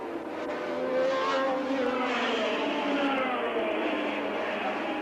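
Formula One cars at the 1981 Austrian Grand Prix roar past in a continuous, steady engine drone with a broad, dense tone and no clear pass-by peaks, holding fairly loud throughout.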